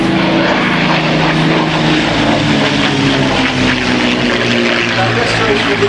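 A Hawker Nimrod biplane flies at a seaside air show, its propeller engine droning loud and continuous with a steady humming tone, while a commentator talks over it.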